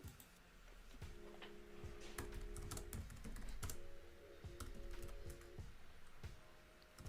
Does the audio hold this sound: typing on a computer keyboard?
yes